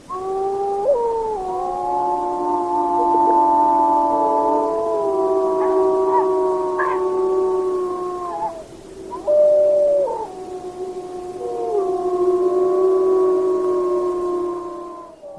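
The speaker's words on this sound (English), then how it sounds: "let's hear an example of some wolves howling. And this is a pack of wolves during the evening in Yellowstone National Park." Pack of wolves howling in the evening in Yellowstone National Park: several overlapping long, sliding howls at different pitches, sustained and fairly clear, rising and falling together for about fifteen seconds with a brief pause midway.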